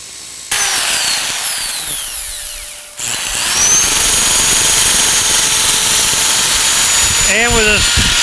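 A wood lathe turning a wooden snowman, a loud whining spin with a harsh cutting hiss as the tool bites, a brief dip near three seconds, then steady cutting; a voice speaks near the end.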